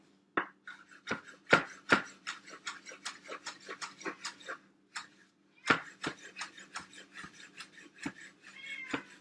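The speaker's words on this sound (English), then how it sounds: "And you're just gonna chop this." A knife taps repeatedly against a cutting board chopping herbs in quick irregular bursts, with short pauses between runs of chopping, close by and crisp.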